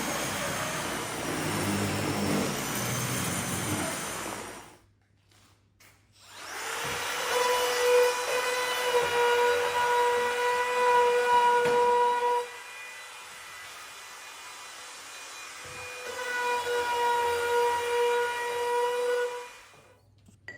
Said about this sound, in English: I'm using my brush machine here rather than a sander, just to remove some of the kind of sappy wood and raise the grain a bit